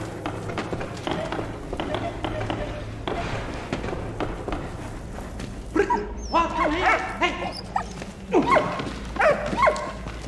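A dog in the Valiant Hearts video game barks and yips in short bursts, with whimpering sounds and game ambience underneath and someone talking over parts of it.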